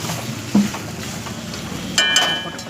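Meat cooking in a pan: a soft, steady sizzle under clinks and scrapes of stirring, with a couple of louder knocks and a brief bright metallic ring near the end.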